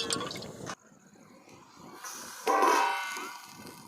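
Water splashes and pours into a pan in short bursts, with a louder stream near the end, quiet and close.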